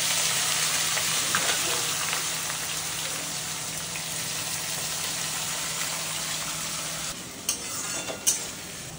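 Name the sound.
oil heating and frying in pan for mutton kosha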